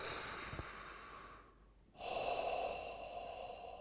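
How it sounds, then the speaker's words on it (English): A single deep breath drawn in and blown out close to the microphone, a long airy inhale that cuts off briefly, then a strong steady exhale. "take a deep breath"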